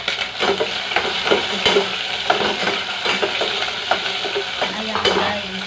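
Chopped tomatoes go into a hot pan for pork sinigang, sizzling steadily while a utensil stirs and scrapes against the metal in repeated strokes, close and loud.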